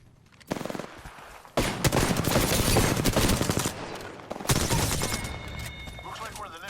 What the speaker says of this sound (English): I'm taking shots. Opening fire.